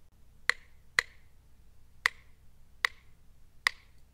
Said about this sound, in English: This is a 2-3 son clave.